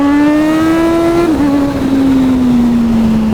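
A 1000cc-plus motorcycle pulls hard at full throttle, its engine note climbing loud and steady and barely dipping at a gear change before droning on strongly, with no talk over it.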